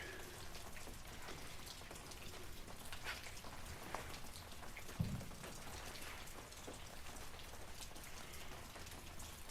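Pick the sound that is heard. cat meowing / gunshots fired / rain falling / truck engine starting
rain falling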